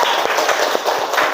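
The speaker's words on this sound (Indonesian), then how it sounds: "Luar biasa, tepuk tangan." A class of students in a lesson claps together in a brief, close round of applause. The clapping is loud and dense, and individual claps can be picked out within the short burst.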